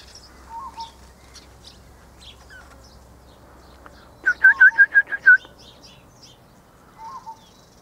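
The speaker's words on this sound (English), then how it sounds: "There's a lovely portrait of a parrot" A parrot gives a quick run of about six sharp, clear chirps partway through, with a few faint, scattered calls before and after against quiet background noise.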